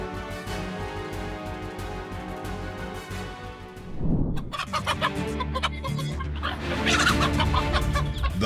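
A mother hen clucks and squawks agitatedly, loud and close, with rapid, repeated calls that grow more frantic midway as she confronts a cobra while guarding her chicks.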